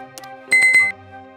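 A bright bell chime for a subscribe notification, two or three quick struck rings with a sustained shimmering tone over a steady musical bed, clear and close.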